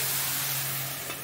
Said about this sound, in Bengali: এবার ভালো করে নেড়ে একটু ঢাকা দিয়ে দিব